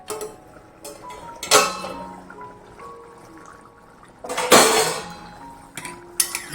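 A metal lid comes off a cooking pot of simmering ridge gourd gravy, making sharp clanks and clinks with a ringing metallic tone, first around the middle and then louder near the end, with quiet kitchen background between.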